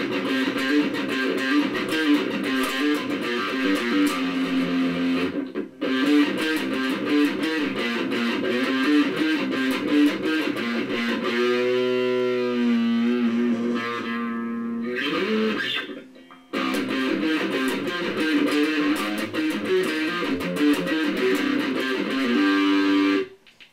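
Loud distorted Ibanez GRGA42TQA electric guitar, played on both pickups, churns through chunky chords and sustained notes, with a couple of brief breaks and a bending, held note in the middle.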